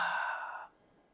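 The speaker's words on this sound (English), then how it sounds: "Exhale." A single long exhale during box breathing, a close breathy hiss lasting just over half a second before fading into quiet.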